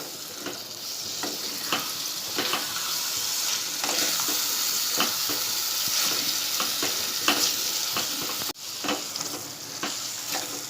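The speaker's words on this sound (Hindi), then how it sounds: "कलेजी को हम मसाले में अच्छे से मिक्स करेंगे।" Mutton liver sizzles steadily in masala in a pan, with repeated scraping stirs punctuating the dense, close frying hiss; no one speaks.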